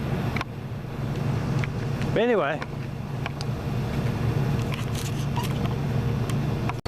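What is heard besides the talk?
road traffic passing by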